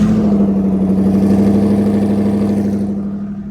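A twin-turbo Ford Mustang S197 engine, cold, running loud and close with a steady low rumble and a faint whistle that fades out near the end.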